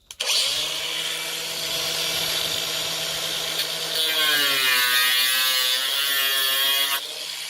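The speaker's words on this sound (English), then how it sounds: "we're just going to do a straight line right through here. With the grinder it's really easy" A cordless angle grinder cuts a straight line through planter material, its high whine holding steady and loud from start to finish, then shifting pitch partway as the blade loads, with no one speaking.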